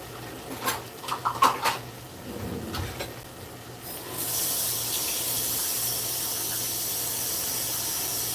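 Tap water runs steadily into a cooking pot for spaghetti, a broad even rush that starts about halfway through after some faint clatter and kitchen handling noises.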